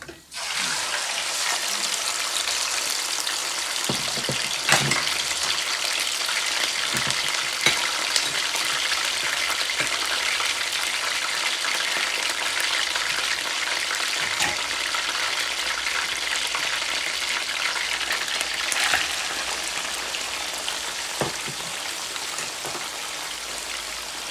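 Chicken sizzling and frying in hot oil while cooking chicken korma, a steady loud broadband crackle and hiss that holds for the whole stretch with small pops scattered through it.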